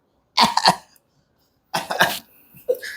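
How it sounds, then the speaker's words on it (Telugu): A child coughs in two short, close bursts separated by a pause, the second trailing into a smaller cough. "నిజంగా దగ్గుతున్నాడు"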